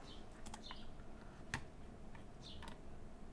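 Fingers type on a computer keyboard during a design session at a desk: a few quick, quiet clicks and taps scattered irregularly, with one sharper keystroke in the middle, close by and with no talking.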